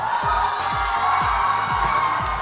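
A crowd at a Bollywood-style dance competition elimination round in Arunachal cheers and whoops for a guest. The noise is a steady, dense roar, with a thudding beat pulsing about twice a second beneath it.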